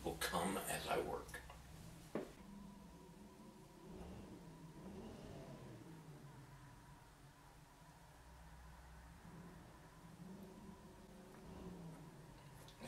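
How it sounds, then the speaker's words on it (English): Old 1930s antique hot rod car engines rev a couple of doors away, heard faintly as a low, steady drone that swells and falls in pitch in the background. "It sounds like a guy down about two doors is revving up the engines of his old cars."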